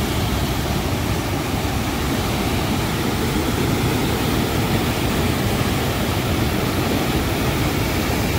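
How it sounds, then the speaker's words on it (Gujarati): The flooded Banas river roars over the Amirgadh check dam in a dense, unbroken rush of water, loud and constant throughout with no voices. "ઘોડાપુર નદી ચાલી રહી છે"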